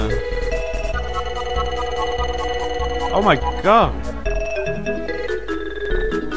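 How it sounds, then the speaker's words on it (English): Repeated phone notification chimes for incoming snapshots sound over game music in Super Mario RPG, with a couple of rising-and-falling tones in the middle and a person talking. "Stuart is spamming my phone with... Oh. Spamming my phone with snapshots."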